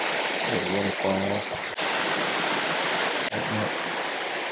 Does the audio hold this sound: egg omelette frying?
no